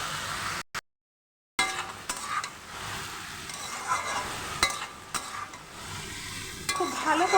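Food fries and is stirred in a pan with turmeric and salt, a steady close sizzle broken by scraping spatula strokes, after a short silent gap near the start.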